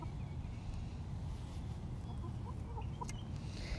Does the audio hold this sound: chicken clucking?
yes